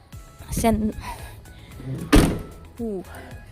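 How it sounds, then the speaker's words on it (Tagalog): A sliding door on a Toyota GL Grandia van shuts with a single solid thunk midway through, framed by someone speaking in short phrases before and after. "maayos na maayos pagsara ng kanyang pintuan"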